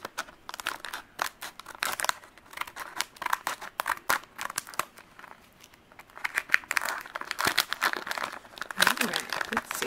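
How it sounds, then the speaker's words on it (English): Scissors snip open a crinkly plastic Harry Potter blind bag up close, with rapid crackling and rustling of the wrapper in dense bursts, and a person talks over it. "Cutting open the bag. Gotta cut it semi-straight."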